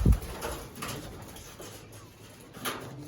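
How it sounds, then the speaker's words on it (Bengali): Pigeons of Andhra, Madrasi and Teddy breeds in a loft give soft, intermittent low coos with occasional wing flutters, close by and fairly quiet, with a brief thump at the start. "এটা একটা ভুরা পায়রা আছে আন্দ্রার নর, হাতে থাকতে চাইছে না"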